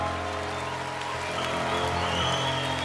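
Audience at a French youth book-prize event applauding a pianist and performer: a steady, dense wash of clapping, even and continuous throughout, with faint lingering tones beneath.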